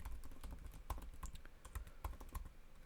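Steady, fast typing on a computer keyboard, close and quiet, a dense patter of light clicks with a few heavier key strikes and no voices.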